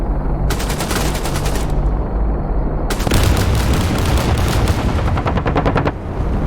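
Rapid bursts of automatic gunfire in DCS during a 2009 Helmand, Afghanistan reenactment, two long rattling strings of shots separated by a short gap over a low rumbling backdrop.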